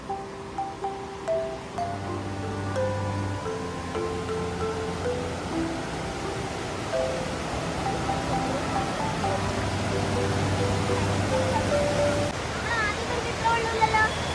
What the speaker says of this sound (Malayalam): വെള്ളച്ചാട്ടത്തിൻ്റെ സൗണ്ട് നല്ല രീതിയിൽ കേൾക്കാം